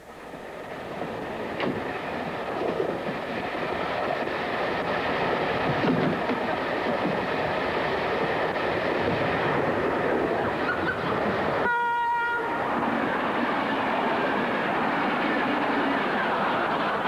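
Train running on rails, heard from aboard as a steady loud rumble and rattle throughout, with a brief horn blast near the end.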